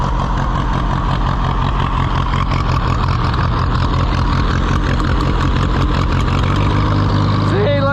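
An Allis-Chalmers WD tractor engine idles loud and close with a flooding carburetor, a steady low chugging throb that stays constant before shifting slightly near the end.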